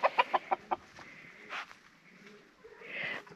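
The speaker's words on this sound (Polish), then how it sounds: "Nie wchodzę, bo widzę, że są kogutki." Chickens in a fenced yard at a Polish village farm cluck in a quick run of sharp close calls, then softer scattered clucks and a drawn-out cry near the end.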